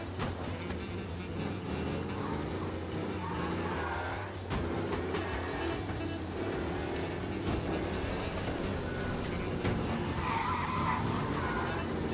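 Car engine and skidding tires in the video game Mafia Definitive Edition, a steady loud engine drone with screeching skids running throughout, no pause.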